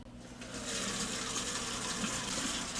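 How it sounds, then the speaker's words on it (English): Warm water runs steadily into the tank of a Kirby G3 carpet shampoo system, a continuous, fairly soft rushing that begins abruptly and holds even throughout. "Fill it with warm water, not hot."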